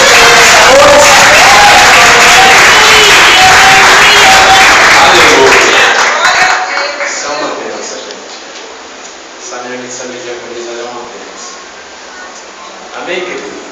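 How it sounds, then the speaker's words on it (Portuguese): Loud applause and cheering from a church congregation, a dense roar with a voice over it that falls away after about six seconds, leaving quieter room sound and faint talk. "As palmas do Senhor"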